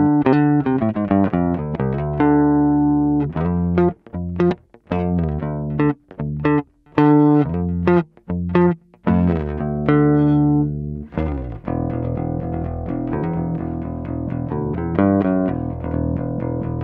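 Electric bass with Fender flatwound strings played through an Orange amp: a run of clean, round plucked notes with short gaps, closing on sustained chords, loud and alone with no talking.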